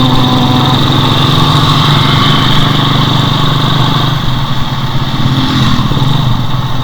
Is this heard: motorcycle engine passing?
yes